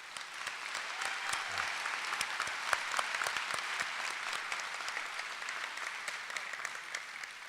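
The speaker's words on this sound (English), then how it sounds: "Take a stand and applause for Adam." Steady applause from a seated audience at a college commencement, a continuous wash of many hands clapping at moderate level from a distance, with no talk over it.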